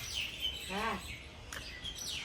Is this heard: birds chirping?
yes